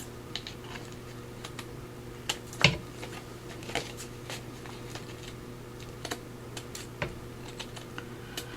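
Paper is trimmed for a craft project, producing a series of faint, close, irregular clicks and snips against a quiet background, with no talking.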